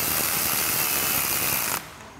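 A hand ratchet with an 11mm socket snugs down engine nuts on a 1978 Vespa P200E during an engine rebuild, giving a steady close clicking that stops abruptly near the end.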